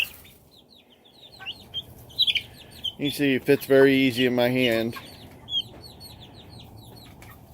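Young Rhode Island Red chicks cluck and peep in quick, close bursts, loudest in a dense cluster mid-clip, while a person talks nearby.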